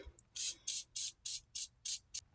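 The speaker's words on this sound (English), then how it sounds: "I'm going to try to spray in there with some lubricant because sometimes this bolt can get stuck in there" Aerosol lubricant sprayed onto a stuck front axle bolt on a Hummer H3 or Chevy Colorado, heard as seven short, even hissing bursts in a steady rhythm, close and clear with no talk.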